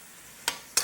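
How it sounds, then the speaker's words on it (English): Green onion is stirred into crabmeat etouffee in a pan, two short scraping swishes of a spoon close by over a faint simmering background. "Get that stirred in there good."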